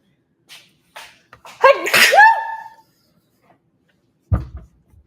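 A single loud sneeze bursts out, preceded by a few soft breaths and followed by a brief knock or thump.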